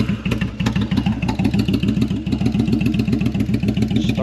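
A bobber motorcycle engine fires up and settles into a loping idle, its rapid, uneven exhaust pulses thumping steadily and close by with small throttle swells.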